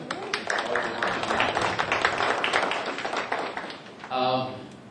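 At a public education forum on school investment, an audience gives a delegate of the 22nd District a steady round of applause, a dense patter of clapping that runs for several seconds before a voice speaks near the end.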